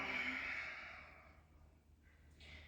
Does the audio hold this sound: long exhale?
yes